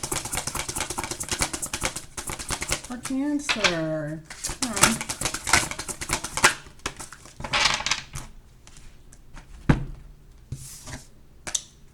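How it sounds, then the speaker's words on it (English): Tarot cards shuffled in the hands in repeated quick riffling bursts, crisp papery flutters under a voice talking throughout. "I want to go ahead and see if I can shuffle."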